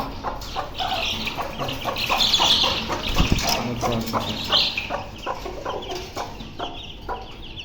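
Several newly bought chickens and aseel chicks cluck and chatter close by in a steady, busy flock, with brief wing flaps and soft rustling mixed in.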